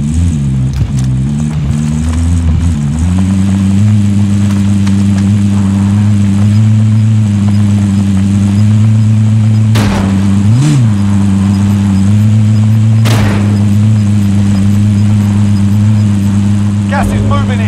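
Vehicle engine in the Call of Duty Warzone video game, a steady loud mid-pitched drone with a brief rev near the start and a few sharp bangs layered over it.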